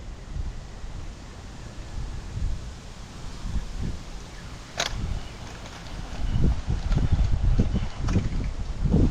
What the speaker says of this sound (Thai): แต่ลมโคตรแรงเลยดิ